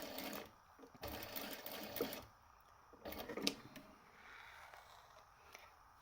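Sewing machine stitching a patch pocket, quiet whirring runs in short bursts with brief pauses between them, close by, and a faint voice in the background.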